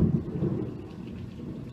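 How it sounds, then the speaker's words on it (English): Heavy rain pours steadily outside with a low rumble of thunder rolling underneath, a dense continuous wash with no voices. "If you hear any rain in the background, like, we're getting some rain,"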